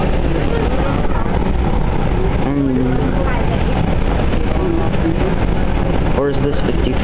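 A light rail train rolls along tracks near Tukwila International Boulevard station, its steady low rumble and road-like drone filling the cabin continuously, with faint squeals and clatter passing mid-ride.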